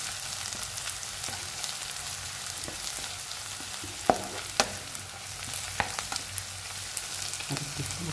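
Shallots sauté with salt in a pan for a Kerala shallot theeyal curry, giving a steady, close frying sizzle with occasional utensil clinks and scrapes.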